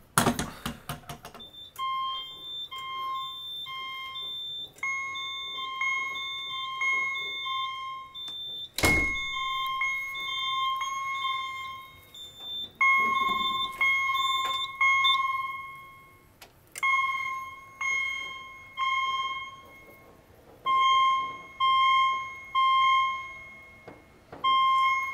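A Simplex True Alert fire alarm horn/chime device sounds during a Simplex 4010 system test, giving repeated loud electronic tonal beeps in a steady on-off pattern with a sharp click partway through, no talking.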